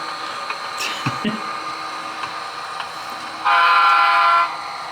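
A train horn sounds for about a second, steady and moderately loud, over a constant background hum and rumble.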